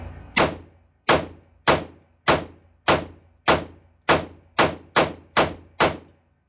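Sig Sauer P365 Luxe .380 pistol firing 95 grain Winchester full metal jacket rounds at 7 yards, eleven sharp, loud shots in a fairly even rhythm that quickens toward the end, each with a short ringing decay.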